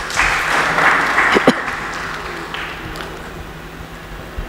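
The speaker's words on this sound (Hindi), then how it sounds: "आप सब इजाज़त दें एक बार थोड़ी तालियां बजा के।" Audience applause at a mushaira in Ramnagar, a warm burst of clapping from the crowd that thins out over a few seconds, leaving scattered claps and light murmur.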